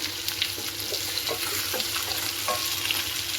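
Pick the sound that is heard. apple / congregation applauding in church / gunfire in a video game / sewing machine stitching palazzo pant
apple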